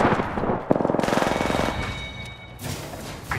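Apex Legends gunfire, a rapid burst of machine gun shots ripping out in a steady, evenly spaced rattle for about a second, followed by fainter shots and game noise, loud and close.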